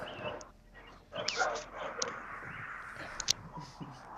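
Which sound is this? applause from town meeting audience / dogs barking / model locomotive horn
dogs barking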